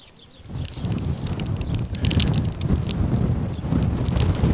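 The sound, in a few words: strong wind blowing on the microphone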